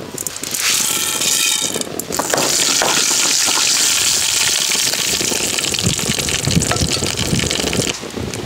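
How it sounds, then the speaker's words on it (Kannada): Mustard seeds crackling and sputtering in hot oil in a cooking pot while tempering for a Konkani-style lentil dish with moringa leaves, a dense, loud, continuous popping sizzle close by. "ಎಣ್ಣೆ ಬಿಸಿಯಾದ ಕೂಡಲೇ ಸಾಸಿವೆ."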